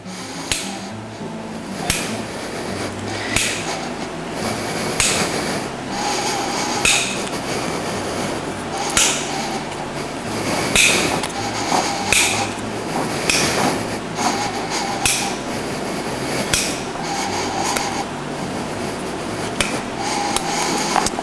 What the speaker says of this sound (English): using the nippers, I'm going to follow that trail around the perimeter of the hoof